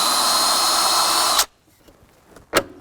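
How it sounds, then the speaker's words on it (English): A stepped drill bit enlarges a hole during a hood release cable replacement on a 2000-2006 Chevy Tahoe, giving a loud, steady drill whine that stops abruptly, followed by a short sharp burst. "Just gonna use a stepper drill bit."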